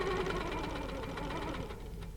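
A sewing machine stitches across a boat quilt guided by an HQ ruler, a steady fast mechanical whir with rapid needle ticking, close and fairly quiet.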